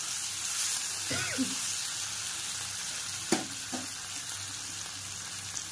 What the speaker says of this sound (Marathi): मिरची आपली भाजलेली आहे, त्याच्यामध्ये मोठे मोठे बटाट्याचे काप घालूया।